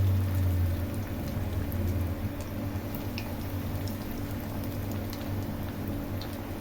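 Bread-crumb-coated meal maker and paneer snacks fry in oil in a kadai over a low flame, a steady soft sizzle and crackle running throughout with faint bubbling pops.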